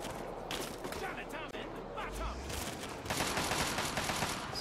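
Gunfire in Fallout 3 during a fight with hostiles, rapid bursts of shots crackling at moderate volume, with the pace picking up toward the end and voices talking over it.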